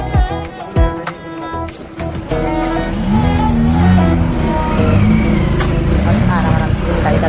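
A small family car drives along a road, its engine droning steadily up close beneath loud music with singing and a few voices talking.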